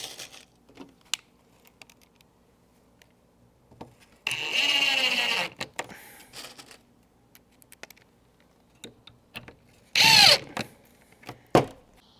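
A power drill drives half-inch screws through metal straps into an outdoor wooden Christmas sign. Two separate whirring bursts are heard up close, with quiet stretches and small clicks of handling between them.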